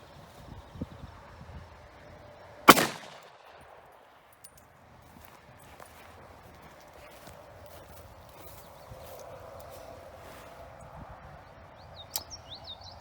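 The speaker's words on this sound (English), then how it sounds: "142 grain semi-wad cutter out of a Ruger GP100 357 Magnum" A single loud gunshot from a Ruger GP100 .357 Magnum revolver firing a 142-grain semi-wadcutter at a French F2 Spectra helmet, a sharp crack early on followed by quiet outdoor ambience with faint birdsong.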